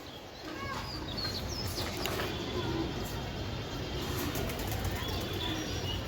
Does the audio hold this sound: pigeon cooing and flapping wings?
yes